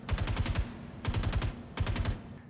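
Automatic gunfire from a weapon in the video game Star Citizen, three rapid bursts of about half a second each, loud and close with short gaps between them.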